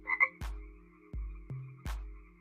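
Croaks from a frog in a murky bog: four deep, hollow calls spaced unevenly over a couple of seconds, the first preceded by a brief higher chirp. They sound close and distinct, with no voices.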